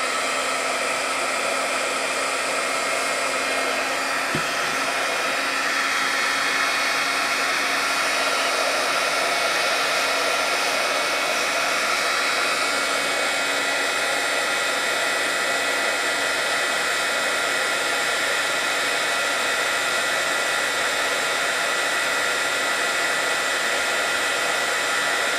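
A hair dryer blows a steady, close, loud whoosh from below onto a broken lipstick to melt it, running without pause for nearly half a minute with no one speaking.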